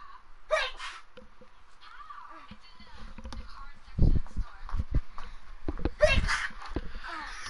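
A person sneezes twice, short sharp bursts several seconds apart, with someone talking and moving around in between and a game playing in the background.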